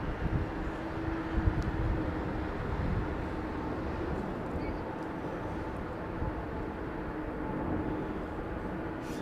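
A KLM Embraer E2 jet airliner lands at London Heathrow in crosswinds, its engines making a steady, broad roar that holds at a constant level throughout with no voices over it.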